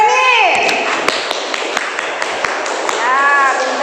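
A schoolroom of children claps in a short rhythmic burst of taps for a classmate, under a teacher's voice and children's sing-song speech.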